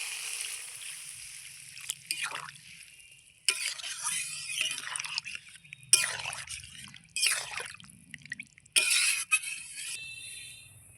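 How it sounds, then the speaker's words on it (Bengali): Water poured into a curry being cooked down for gravy in a pan over a wood-fired clay oven: faint, intermittent splashing and trickling in bursts with soft sizzling and stirring, fairly quiet throughout. "এবার আমি গ্রেভির জন্য জল দিয়ে দিচ্ছি।"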